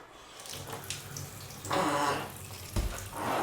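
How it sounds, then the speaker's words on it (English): Water runs from a tap in uneven bursts while watering a banana tree, splashing louder in a couple of stretches, with a low background hum. "I'm gonna water my banana tree"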